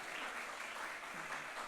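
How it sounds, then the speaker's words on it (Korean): A brief burst of audience applause at a lecture for a parents' prayer gathering, a dense, even patter of clapping lasting under two seconds with no voices. "박수 한번 쳐주시겠어요?"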